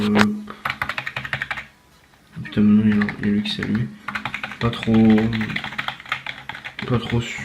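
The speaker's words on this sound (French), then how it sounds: "Pas trop silencieux, pas trop qui fait de bruit, pas trop dire mécanique, c'est pas un clavier mécanique." Soft, quiet keystrokes tapping in irregular bursts on a non-mechanical keyboard, with a person talking over much of it.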